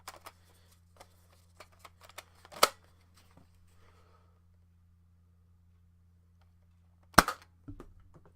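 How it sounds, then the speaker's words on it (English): Foam darts fired from a Fortnite SP-L blaster during chronograph testing: two sharp, loud pops a few seconds apart, with faint clicks and handling noises in between and a low steady hum underneath. "we're just going to chrono the various types of darts I've already used"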